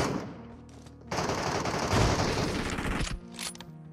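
MG3 machine gun fire in the video game PUBG Metro Royale: a dense, continuous burst of rapid automatic shots rings out loud and close, cutting off abruptly and followed by quieter scattered gunfire.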